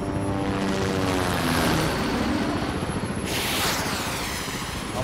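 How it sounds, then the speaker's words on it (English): A helicopter in the 2020 film Top Gunner drones steadily throughout, a dense, loud rotor and engine roar with a rhythmic low chop, heard alone without talk. "It's a helicopter."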